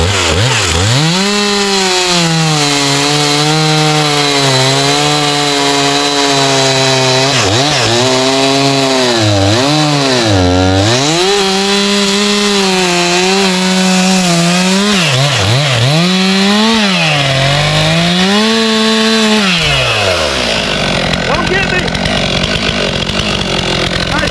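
Stihl MS 362 C chainsaw cutting firewood, its engine loud and close, revving and bogging repeatedly as the chain bites into the wood, then dropping to idle near the end.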